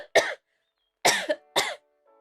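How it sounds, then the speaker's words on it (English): A voice fakes a vicious coughing fit: three sharp, close coughs in quick succession, the middle one doubled, separated by silence, ending with a faint trailing murmur. "Oh, I can do a vicious coughing fit."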